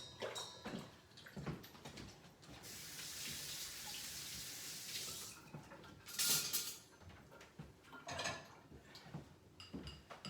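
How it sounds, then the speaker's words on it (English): Running tap water rinsing hands in a home kitchen while sesame noodles are being made, a steady broadband wash from about three to five seconds with scattered drips and clinks around it, fairly close. "And now I'm going to rinse my hands off for a second."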